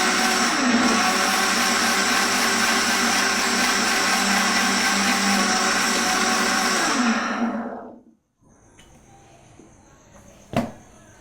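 A mixer grinder whirs loudly and continuously as it grinds fish curry ingredients, the motor winding down and stopping near the end, followed by quiet and a brief clatter.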